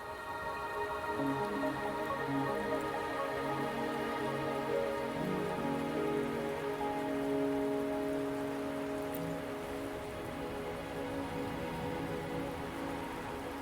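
Steady rain pattering on a surface in the video game Wuthering Waves, a continuous even hiss throughout with no voices.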